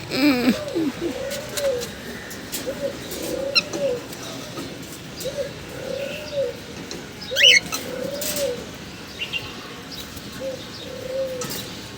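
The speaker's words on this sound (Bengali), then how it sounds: "এই দেখেন এই যে কবুতরগুলোকে পানি দিছি, এই যে নিচে 2 খাঁচা কবুতর।" Caged pigeons, two cages of them, coo in a soft repeating rhythm nearby, with occasional faint chirps and light rustles in the background.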